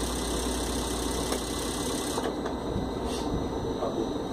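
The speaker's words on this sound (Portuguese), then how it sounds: "Esse aqui é o motor rodando." A car engine running steadily with a continuous low mechanical drone, close and fairly loud, while being cranked and run on a workshop test with the engine speed sensor disconnected.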